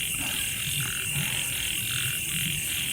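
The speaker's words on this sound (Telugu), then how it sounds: "మిడతలు, కప్పలు, అవే సౌండ్స్." Frogs croak in a rough, repeating chorus at night in a forest campsite, layered over a constant high shrill drone of crickets, all steady and fairly close with no talking.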